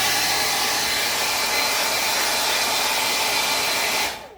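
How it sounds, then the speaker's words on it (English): A hand-held dryer blows steadily at close range, a continuous loud whooshing rush used to dry Pentart two-step crackle varnish on a craft piece, cutting off abruptly near the end. "So I'm going to turn my dryer on."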